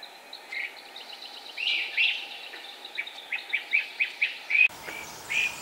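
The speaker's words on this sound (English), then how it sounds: "Who knew how much noise a family of great crested flycatchers could make?" A family of great crested flycatchers calls on a North Maine Woods logging road, repeated sharp whistled notes in quick bursts, fairly close and clear, with brief louder calls near the end.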